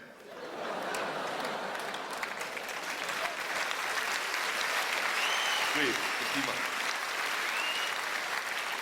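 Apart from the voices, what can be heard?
audience applause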